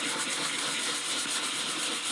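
400 grit sandpaper rubs steadily across the wood of a Lyon and Healy Terz, a continuous close, even scratching hiss with no talk.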